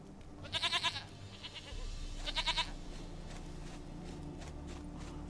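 Goat bleating in The Witcher 3 video game: two short, clear bleats close by, one early and one a little later, over a low steady game ambience with no talk.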